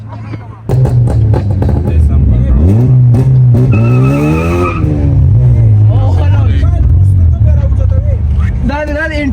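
Cars lining up at a drag race in Islamabad, engines revving loudly with sharp tire squeals and skids, rising and falling pitches sweeping past close by over crowd babble and shouting.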